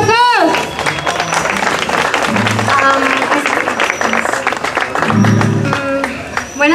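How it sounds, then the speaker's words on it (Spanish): An audience at an evening singing contest semifinal in Tampico applauds loudly, a dense sustained wash of clapping and crowd noise throughout, with a voice speaking over it and a few cheers rising near the end. "Fuertes, pero fuertes, los aplausos."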